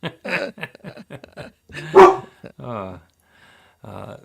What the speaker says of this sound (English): My dog is voting.